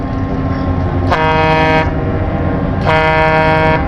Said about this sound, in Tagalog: Ang cute ng busina nga re